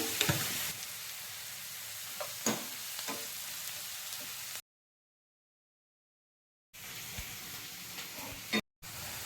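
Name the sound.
onions frying with salt in a pan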